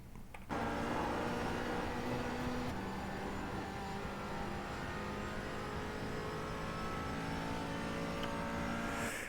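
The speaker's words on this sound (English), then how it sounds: "back to full throttle to carry as much momentum up and out" McLaren 570 engine held at full throttle at Bathurst in a racing game, a loud steady high-revving drone with a brief gear-change dip, continuous and alone.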